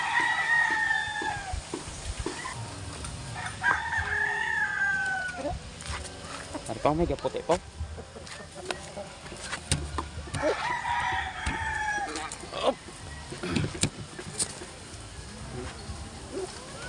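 Chickens and roosters on a farm, with crowing and clucking rising at intervals over steady background bird noise, while a person talks nearby through much of it.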